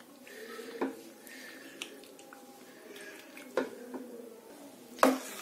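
Spoon stirring curd into cream in a pot for homemade desi ghee, with soft scraping and a few sharp clinks of metal against the vessel, close by and fairly quiet.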